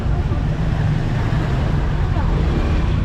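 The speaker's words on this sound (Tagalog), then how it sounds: "So traffic dito." Road traffic in Malasiqui, a heavy low rumble of passing engines close by, steady and loud with a slight rise and fall, with a voice speaking over it.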